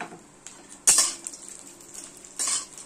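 Whole spices (dried red chillies, cardamom, mace, cinnamon) tempering in a pan for Bengali polao, stirred with a utensil that gives two distinct metallic scrapes and clinks over a faint background sizzle.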